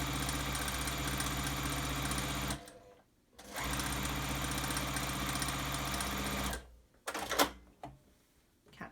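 A sewing machine runs a quarter-inch seam on baby quilt blocks, a loud close rapid mechanical whirr in two long bursts broken by short pauses and a few clicks.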